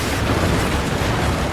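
Broadside cannon fire from a sailing ship in Assassin's Creed Black Flag fills the moment with loud, sustained rumbling booms and crackling bursts blending together.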